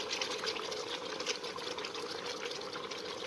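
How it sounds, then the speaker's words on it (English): Water poured into a cooking pot of marinated chicken for biryani, a steady close splashing and gushing that runs unbroken throughout. "So I'm gonna go ahead and add water."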